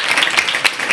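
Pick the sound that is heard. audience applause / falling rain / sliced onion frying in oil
audience applause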